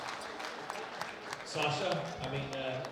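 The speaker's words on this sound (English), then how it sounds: "One more round of applause for these fine young ladies." Audience applause at a world bench press championship, a moderate patter of clapping in a large hall that swells halfway through, with an announcer's voice over it.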